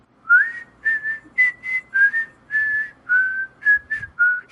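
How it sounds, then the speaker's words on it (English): A person whistles the whistle song from Kill Bill, a clear, close melody of about nine sustained notes with rising slides and short gaps between phrases, alone with no talking. "do the whistle song from Kill Bill"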